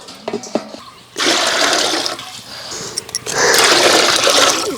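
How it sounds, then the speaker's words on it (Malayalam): Four cups of water poured into washed rice in a pot for watermelon dum biryani, a loud steady gushing stream in two bursts separated by a brief pause, with light clatter before it starts. "അരിക്ക് നാല് കപ്പ് വെള്ളമാണ് കേട്ടോ നമ്മൾ ഒഴിക്കുന്നത്"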